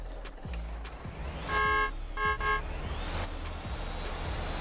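Car horn honks in the Motor Town video game, two short toots close together over steady road and engine noise from a RoadMaster Sigma bus scene.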